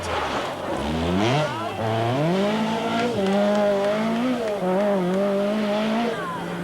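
A Lancia 037 rally car engine revs and drops through a tight hairpin at the 1985 Rallye des Garrigues, the pitch sweeping up and down as throttle and handbrake are worked, loud and close throughout.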